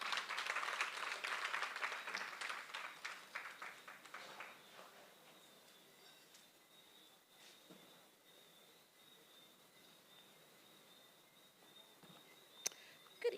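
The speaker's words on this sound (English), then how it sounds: "Let's give her a huge round of applause." Audience applause at a youth showcase and appreciation awards ceremony, loud clapping at the start that fades over several seconds into a quiet room.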